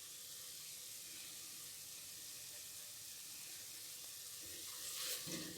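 Chopped onion frying in a pan for chicken soup, a faint, steady hiss of sizzling oil with a brief louder stir near the end, no talking.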